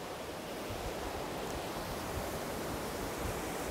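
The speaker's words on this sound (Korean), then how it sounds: "와, 폭포네요." A continuous rushing roar of falling water, broad and steady like a nearby waterfall in a mountain valley in spring, with no voices.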